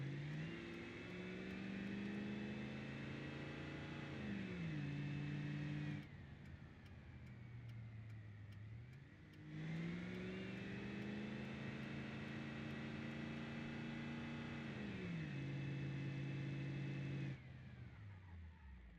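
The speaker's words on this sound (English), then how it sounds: "This truck is so loud." A loud truck engine in BeamNG drones steadily, rising in pitch as it revs up, easing off, then revving again over about twenty seconds.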